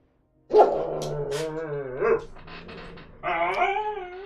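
Dogs in a room bark, yip and whimper in a few close bursts, with a pause between the barks.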